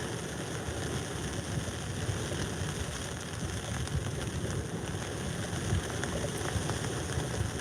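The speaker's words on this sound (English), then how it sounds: "It's nice sat in this shelter when the rain's out there." Steady, dense rain hisses without letup outside a sea-fishing shelter on a stormy night, heard close and continuous with no voices.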